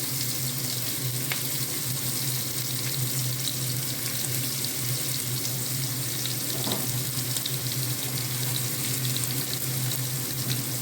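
Chopped onion, beans, capsicum and carrot frying in a pan for a vegetable oats dish, a steady, dense, hissing sizzle that holds at an even loudness throughout, close up and with no talking.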